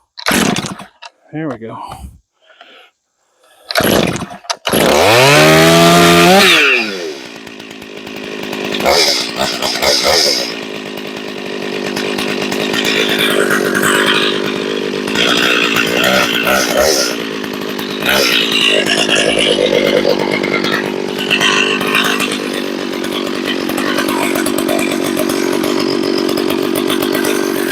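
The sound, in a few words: chainsaw warming up on a chainsaw mill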